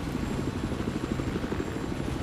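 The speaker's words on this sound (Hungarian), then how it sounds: "Már lő a helikopter." Helicopter in the video game Battlefield 4 during a match on the Lancang Dam map: a steady rotor chop pulses rapidly and evenly at moderate distance, with engine whine underneath and no talk.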